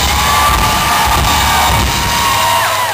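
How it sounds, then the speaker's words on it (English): Live rock concert audience in Tampa or St. Pete applauding and cheering, a loud, dense roar of clapping and whoops that fills the whole stretch without break. "nice congratulatory round of applause for hitting that last note correctly."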